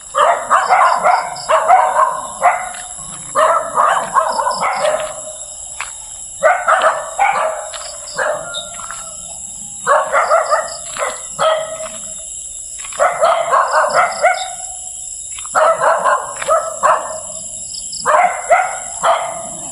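A dog barks in repeated bursts of several sharp barks each, fairly close, with short quiet gaps between volleys and a steady high hiss in the background.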